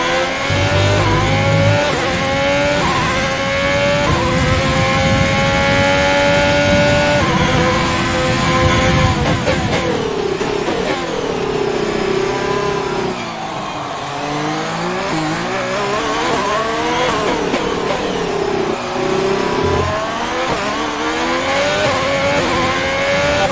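A Formula 1 race car engine in the F1 2020 game at the Mexican Grand Prix screams loud and close, with rising and falling pitch through repeated upshifts and downshifts and occasional tyre squeal, and no one talking.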